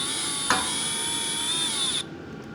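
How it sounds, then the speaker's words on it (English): A power drill whirs steadily while driving screws into a light bar during assembly, a sustained motor hum with a brief sharp knock early on, then cutting off abruptly near the end. "Take our drill, put some pressure down,"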